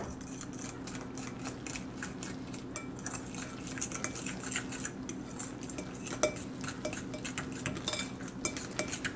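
Spoon stirring tiger nut flour zucchini muffin batter in a bowl, steady scraping and clinking of utensil against the bowl, close and moderately quiet, no talking.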